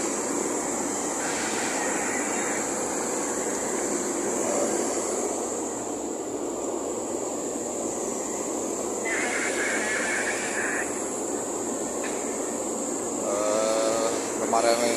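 A steady hum and whine of industrial machinery runs throughout, with faint high tonal whirs coming and going and a constant mid-range drone.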